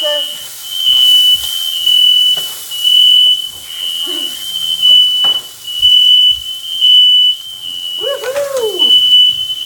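A shrill smoke alarm beeps steadily over a noisy kitchen where people talk and move about while supper cooks, with an excited voice rising near the end.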